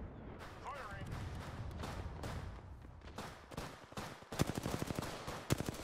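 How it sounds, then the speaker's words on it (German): Gunfire in the video game Apex Legends: scattered shots early, then a fast rattling burst of rapid automatic fire near the end, mixed with game noise and under excited talk from players. "Jetzt gleich werden fliegen die ersten Schüsse."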